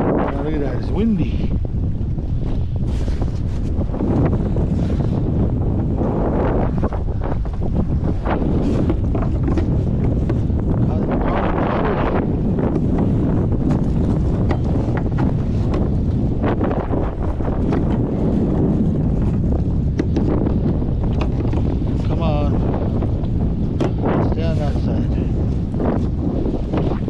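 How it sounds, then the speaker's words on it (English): Strong wind blows across open water while a small boat is out checking a net, a steady roar buffeting the microphone throughout, with occasional speech. "Windy."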